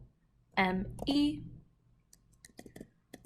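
A few soft clicks on a computer keyboard follow a short stretch of a voice talking, quiet and close by.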